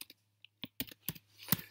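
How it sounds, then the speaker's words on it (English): Typing on a computer keyboard, a short burst of soft, close keystrokes in an irregular rhythm, quiet and alone. "I just typed in the variables here."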